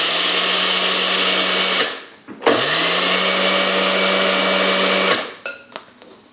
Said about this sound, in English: So we're going to grind it up, and I'm going to use my mini food processor for this.